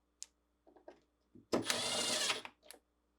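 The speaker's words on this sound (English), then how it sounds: "Next, reinstall the ground wire screw." A ground wire screw is driven into a GE refrigerator during repair: a few small clicks and taps, then a loud, close whirring burst of about one second from a powered driver, followed by a final click.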